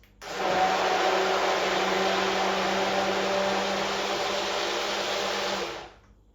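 A kitchen blender mixing a coconut cake batter runs steadily for about five seconds, a loud, even motor whir that starts abruptly and cuts off at the end, with no talk.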